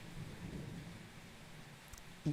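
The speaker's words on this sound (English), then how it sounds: "it's raining during a podcast" Rain and thunder outside at night: a faint, steady low rumble of rain and distant thunder throughout, with one brief thump near the end.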